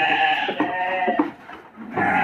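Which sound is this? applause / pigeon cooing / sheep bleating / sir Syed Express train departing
sheep bleating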